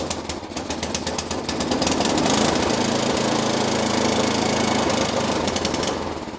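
A fuel-starved snowblower engine runs steadily after being started with the choke on, giving a loud, continuous rough mechanical drone with a rapid knocking rhythm throughout.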